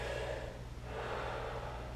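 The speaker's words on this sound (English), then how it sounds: "practice diaphragmatic breathing just sitting there" A man demonstrates slow diaphragmatic breathing while sitting, with an audible breathy exhale followed by an inhale, close and fairly soft over a steady low hum.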